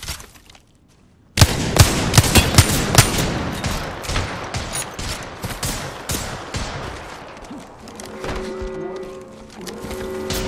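Dense bursts of gunfire from Apex Legends gameplay erupt after a brief quiet opening, with rapid overlapping shots continuing throughout and a sustained tonal hum emerging near the end.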